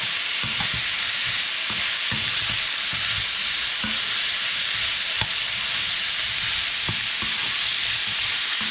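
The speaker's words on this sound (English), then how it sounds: "Now give this a good mix." Shrimp and bitter melon (karela) are stirred in a pot over a continuous loud sizzle, with regular scraping knocks of the utensil against the pot roughly every second, close and without talk.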